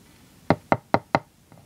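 Knocking on a door: four firm, evenly spaced knocks land close and loud, followed by a faint softer tap, with no voices.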